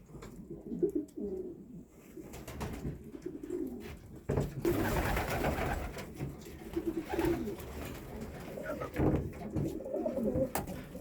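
Racing pigeons coo repeatedly inside a crowded loft full of young birds and yearlings on divided shelves, soft rolling calls near and continuous, with a brief louder flutter partway through.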